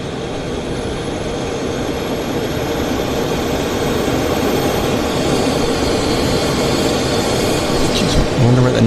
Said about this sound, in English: It could be the APU of Jim Pattison Group there